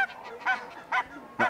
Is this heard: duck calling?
yes